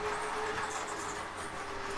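O-gauge model trains roll along the track with a continuous low rumble and a steady electric hum, moderately quiet and unbroken, with no talking.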